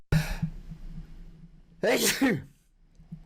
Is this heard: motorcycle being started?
no